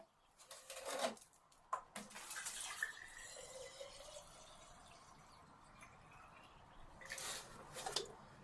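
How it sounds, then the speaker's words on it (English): Water poured into a glass jar, several short splashing gushes and trickles at close range, quiet overall with pauses between pours. "So the first thing I'm going to do is put some water in this container."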